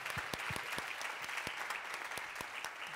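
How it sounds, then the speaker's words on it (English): Audience at a climate change conversation event breaks into applause, a sustained, even patter of many hands with a few sharper individual claps standing out, moderately quiet and without speech. "please applaud that. Applaud that"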